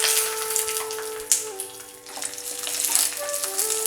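Black raisins dropped into hot ghee fry with a steady, close bubbling sizzle, a few sharper pops and spatters rising over the hiss.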